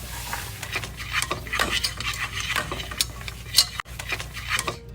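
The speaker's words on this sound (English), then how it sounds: "we're going to put some of the hot milk in, and we're going to begin whisking" A metal whisk beats hot milk into a bechamel roux in a pan off the heat, giving a steady stream of close scraping and clicking strokes with a clanging knock near the end.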